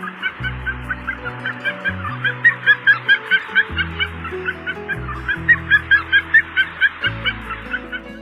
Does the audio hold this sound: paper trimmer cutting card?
no